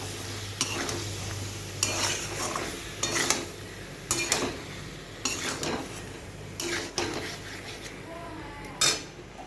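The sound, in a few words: stirring mango sukto with ground mustard in a pot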